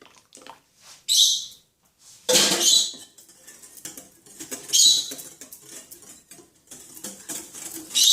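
Homemade shower gel mixture with sweet almond oil and vegetable glycerin stirred with a spoon in a container, a series of close scraping, clinking and sloshing strokes in irregular bursts, with no talking.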